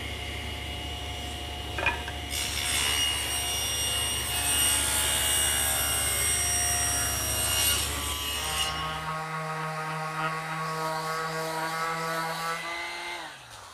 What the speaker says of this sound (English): I'm going to use this piece to rip two 1 1/4 inch rails for the front of the table.